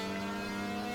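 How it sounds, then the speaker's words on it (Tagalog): An engine revs steadily on a motorcycle in the Roblox video game, a loud continuous droning whine with a sustained pitch throughout, heard alone without talk. "Grabe, ang bilis ng motor natin"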